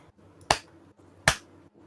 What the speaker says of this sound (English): I'm going to just do a clap test.